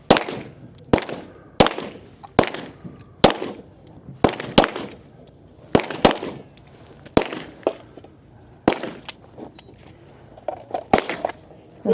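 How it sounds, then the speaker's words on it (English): Pistol shots fired at targets about twelve yards away during a men's tactical division stage at a regional shooting competition, a series of sharp, loud cracks at uneven intervals with clatter and movement in between. "So now we will move to the pistol. 6 shots, and this is going to be about 12 yards out."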